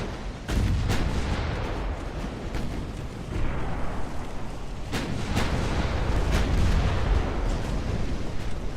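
Warship guns fire in Ultimate Admiral: Dreadnoughts in an 1890 French fleet battle, sharp booms recurring irregularly over a constant low rumbling roar of distant naval gunfire.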